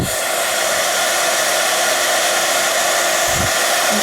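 A heat tool melts embossing powder on a stamped piece, giving a loud, continuous, steady blowing roar that runs without a break.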